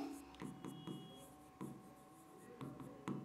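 A pen writes a sentence on paper in short scratchy strokes with brief pauses, close and fairly quiet, over a faint steady hum.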